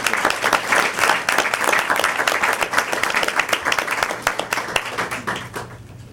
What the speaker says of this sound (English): So let's give her a big round of applause for what she was able to do.